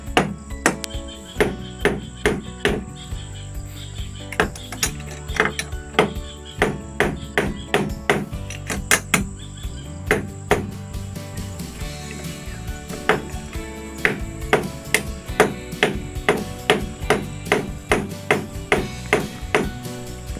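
A hammer strikes repeatedly while door hinges are fitted to a wooden door frame, giving sharp, close taps in irregular bursts throughout, with a constant insect chirp in the background.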